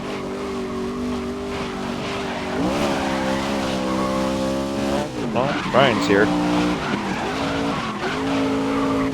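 Race car engines drone and rev while tires squeal and skid, with a person talking over the noise.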